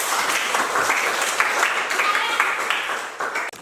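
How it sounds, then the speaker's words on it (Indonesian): Applause from a classroom of students, a steady dense patter of many hands clapping together for a few seconds at close range, tailing off at the end. "tepuk tangan untuk kalian semua"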